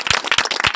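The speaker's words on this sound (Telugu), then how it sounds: "కొత్త చప్పట్లు." An audience in a church claps, producing dense rapid hand claps with a few stronger accented beats, loud and close, without speech over it.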